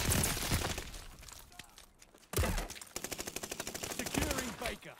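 Armaguerra 43 submachine gun from Call of Duty: Vanguard firing rapid automatic bursts, loud and close, with a sharp shot at the start, a pause, then another sustained rattling burst of evenly spaced rounds.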